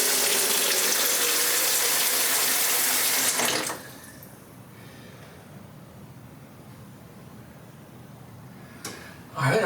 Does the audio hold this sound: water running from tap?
yes